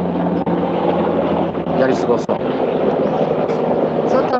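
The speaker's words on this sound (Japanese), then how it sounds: "ヘリコプターが ちょっとうるさいから" A helicopter drones overhead outdoors at a guesthouse in Minami-Izu, its steady loud engine and rotor rumble running throughout while someone speaks over it.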